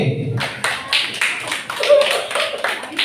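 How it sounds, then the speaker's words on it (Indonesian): A classroom group claps together in quick rhythmic bursts, a short patterned round of applause that stays close and moderately loud for about three seconds. "tepuk tangan untuk kelompok D"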